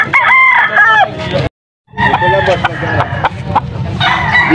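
Young gamecock stag crowing loudly and close in long strained calls, repeated, with a brief cut to silence between bursts and other roosters around.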